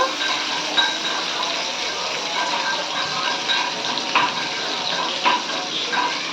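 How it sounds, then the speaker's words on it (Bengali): Onions fry for UP-style biryani in white cooking oil, a steady close sizzle and crackle with a few sharper pops, and no talk over it. "এখন পেঁয়াজগুলো দেওয়া হচ্ছে তেলে বেরেস্তা করা হবে"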